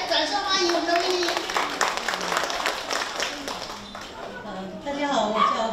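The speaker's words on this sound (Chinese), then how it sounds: "为我们线下来掌声欢迎我们的威利" An indoor audience at a company event applauds steadily for several seconds, a dense patter of many hands that swells again near the end, with voices mixed in.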